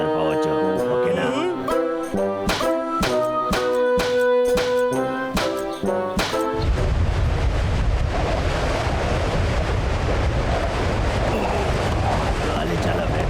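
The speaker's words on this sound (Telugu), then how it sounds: "గాలి చాలా వేగంగా వేస్తుంది" Strong wind in a cartoon rushes in as a loud, broad whooshing roar after a musical passage ends, continuing steadily to the close.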